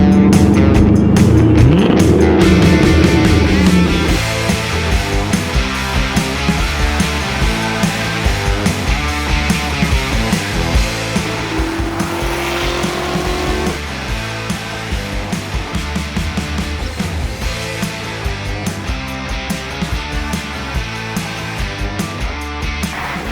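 A 2005 Ford GT runs and drives off, its engine a loud, steady rumble throughout with a louder burst at the start, no voices over it.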